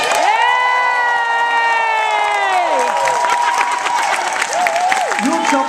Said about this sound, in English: So I feel the time has come for everyone to give fucking Josh a round of applause.